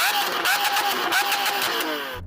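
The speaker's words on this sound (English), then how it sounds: "can you rev up your V12 please?" A Lamborghini Aventador V12 engine revs repeatedly in short bursts, the pitch rising and falling with each blip, fairly loud and nearby.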